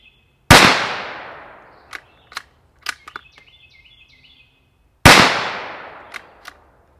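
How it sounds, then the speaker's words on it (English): Two loud, sharp unsuppressed shots from a Savage FVSR rifle chambered in 17 HMR, spaced about four and a half seconds apart, each followed by a decaying echo and faint clicks from handling the bolt. "Let's see how this sounds unsuppressed."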